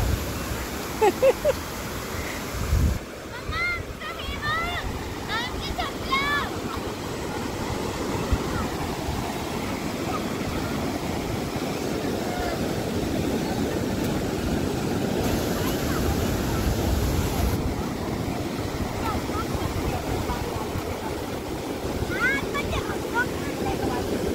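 Steady rush of sea surf rolling in at Borli on the Sindhudurg coast, under gusty wind buffeting the microphone, with a few voices chattering faintly at times.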